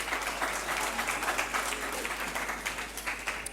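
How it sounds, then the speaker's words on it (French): An audience at a Chadian high-school contest applauds a candidate, a dense sustained patter of clapping that stays fairly even and moderately loud throughout. "On applaudit très très fort pour lui aussi"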